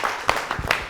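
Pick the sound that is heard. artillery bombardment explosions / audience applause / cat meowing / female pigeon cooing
audience applause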